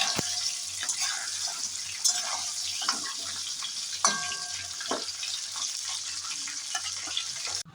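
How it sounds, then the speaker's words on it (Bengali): Dried red chillies, bay leaves and whole cumin crackle in hot oil left from frying fish heads, a steady close sizzle with scattered pops and a few sharper clinks from stirring. "এবারে ওই তেলে ফোড়ন দিয়ে দিয়েছি শুকনো লঙ্কা তেজপাতা এই গোটা জিরে আর দেবো"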